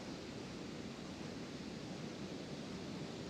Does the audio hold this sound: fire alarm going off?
no